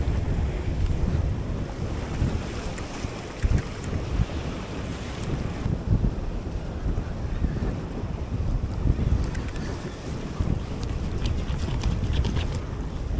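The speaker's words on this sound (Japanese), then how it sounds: "こっちの向きから風が吹いてるんですよね。 割と強めに吹いてるんで" Fairly strong wind blows across the seashore during a fishing trip to Hatsushima island, buffeting the microphone with a steady loud rush that sits over the sound of surf, with no voice.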